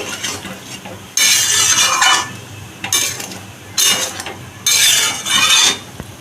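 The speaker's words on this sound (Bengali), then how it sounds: "এবারে এটাকে আমি ভালো করে নাড়িয়ে নিচ্ছি" A spoon scrapes and stirs a vegetarian potato and pointed gourd curry in a pan, in four loud, close bursts of scraping with short pauses between them, and no talking.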